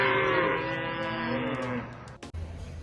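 A cow lets out one long, loud, drawn-out moo that holds for nearly two seconds before fading, followed by a brief thump and near silence.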